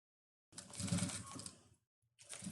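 A sewing machine stitches a finishing seam on a lunch bag, using a size 4 stitch: a close, quick mechanical whirr lasting about a second, a short pause, then the motor starting up again.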